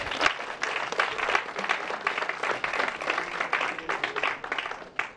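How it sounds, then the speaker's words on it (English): Audience applause at a foundation launch event, dense steady clapping from a large crowd lasting the whole stretch, loud and close with a few sharper claps standing out. "Another round of applause for Prof."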